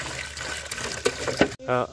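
Water is dropped and poured into a muddy watering hole dug for whitetail deer, giving a sloshing, gurgling splash that ends with a short trickle, with a voice talking over it.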